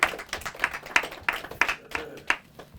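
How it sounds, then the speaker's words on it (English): Sparse clapping at a bookstore author talk, a handful of sharp hand claps in an uneven rhythm, close and moderately loud with no voices. "Applause, thank you."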